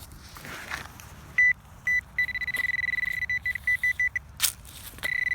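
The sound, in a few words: metal detector beeping at signals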